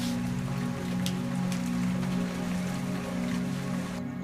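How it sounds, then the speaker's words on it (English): Rain falls steadily into abandoned houses, a dense patter of drops on surfaces with a few sharper drips, held at a constant moderate level under a low steady hum and ending with a slight drop in the hiss. "Rain falls into dining rooms and kitchens."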